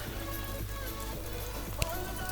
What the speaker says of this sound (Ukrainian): Так, дощ не перестає.